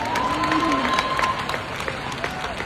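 Audience clapping and cheering in a crowd during a political speech about Black Texan voters, a steady wash of applause with scattered shouts and some voices mixed in.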